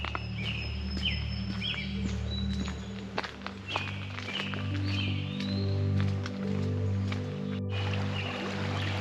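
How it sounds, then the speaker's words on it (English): Birds sing intermittently in the distance, short chirps and whistles over low droning hum and occasional footstep-like thuds. "I can hear the birds down this way"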